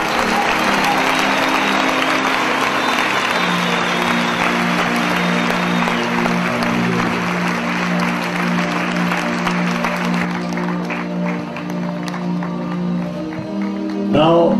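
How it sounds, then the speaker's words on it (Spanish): A church congregation claps steadily in sustained applause over a crowd murmur and a held tone, then the clapping thins out and voices come through near the end. "Let us clap to the Lord."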